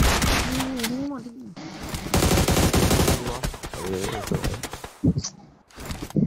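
Rapid bursts of gunfire from a shooter video game ring out loud and close, interleaved with excited voices talking over the shots.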